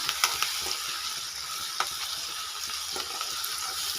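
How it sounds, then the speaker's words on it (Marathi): Vegetable curry made from mung bean pods being stirred in a pan, a steady close sizzle with soft scraping strokes and occasional light clinks, no talking. "आणि मस्त असं हलवते छान आपली भाजी"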